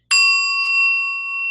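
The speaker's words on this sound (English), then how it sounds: "Keeping the eyes closed just as I ring the bell" A meditation bell struck once, giving a bright metallic ring with clear sustained overtones that linger and slowly decay, alone in a quiet room.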